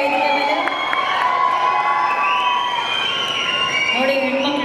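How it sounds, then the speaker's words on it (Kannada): A stage audience cheers, whoops and shouts loudly to welcome a show's host, a dense crowd roar that holds steady throughout with excited voices rising above it. "ಇವತ್ತಿನ ಕಾರ್ಯಕ್ರಮದ ಆಂಡ್ರಿನ್ ಅವರಿಗೆ ದಯವಿಟ್ಟು ದೊಡ್ಡ ಚಪ್ಪಾಳೆಯೊಂದಿಗೆ ಸ್ವಾಗತಿಸೋಣ ವೇದಿಕೆ ಮೇಲೆ"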